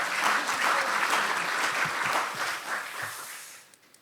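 A large audience claps at a science and technology awards ceremony in the National Assembly, steady dense applause that holds strong, then thins and fades out toward the end, leaving a few scattered claps.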